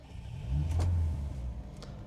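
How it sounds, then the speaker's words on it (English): A BMW 2002 Turbo engine cranks and catches with a short rising burst, then drops back to a low, steady idle close by. "Anyway, let's start it up."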